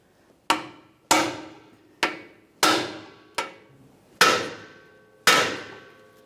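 Hammer blows on a bearing driver seating a rear axle seal on a 1999-2006 Chevrolet Silverado 1500, seven sharp metallic strikes spaced roughly half a second to a second apart, loud and close with short ringing decays.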